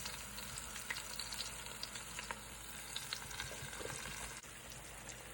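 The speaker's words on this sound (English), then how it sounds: "Just let the oxtails sit and sear." Oxtails sear in an Instant Pot, giving a steady, close hiss and crackle of sizzling fat with scattered pops, no talking.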